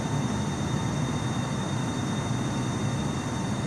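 Captain Sim 777-300ER airliner climbing in a flight simulator game, a steady, loud broadband engine roar with a low rumble that holds evenly throughout, no voices.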